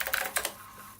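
A few quick keystrokes on a MechBoard64 mechanical keyboard for the Commodore 64, clustered clicks near the start fading into quiet, close and fairly soft with no talking.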